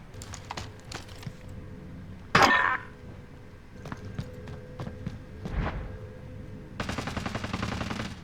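Dual .357 Magnum akimbo pistols fire in Call of Duty: Warzone, a few sharp, separated shots standing out over quiet in-game movement and faint clicks, followed by a brief burst of rapid firing near the end.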